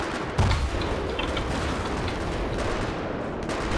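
Gunfire in the video game Battlefield 3 on the Caspian Border map, a dense, continuous crackle of shots and distant booms with one louder burst near the start, fairly quiet and without talk.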